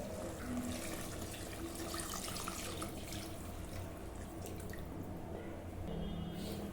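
Water running steadily into a cooking pot for chicken dum biryani, a continuous close splashing stream with faint drips, alone with no talk, two tumblers of water for each tumbler of rice.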